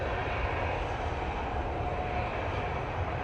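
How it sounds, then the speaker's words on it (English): A Jet2 Boeing 737 airliner moves past at a windy Manchester Airport, its engines giving a continuous, fairly loud, even roar with a faint whine and no voices over it. "Jet2 737 coming on in front of us now"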